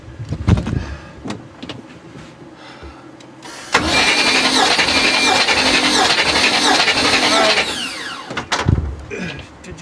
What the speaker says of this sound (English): Try to crank it again.